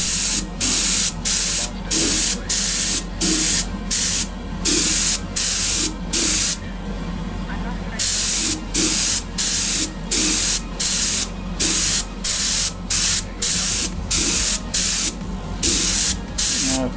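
Airbrush spraying a base coat onto a Greek style vase in repeated loud, close hissing bursts of roughly half a second each, separated by brief gaps, with one longer pause midway.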